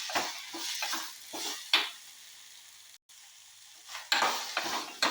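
Soya chunks dry-roasting and being stirred in a pan, with bursts of scraping and sizzle at irregular intervals, near and moderately loud, a brief drop to silence midway, no talking.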